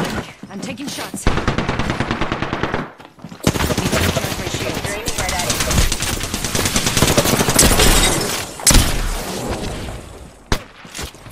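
Sustained gunfire from the video game Apex Legends, loud bursts of automatic shots filling most of the stretch with a brief gap near the start, overlapping game effects and some talk.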